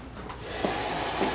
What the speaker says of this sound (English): It's a GHD dryer.